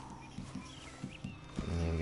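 Horse hooves clip-clop in the video game Red Dead Online, a faint, uneven series of soft thuds under a steady low game background, ending in a louder rising rumble.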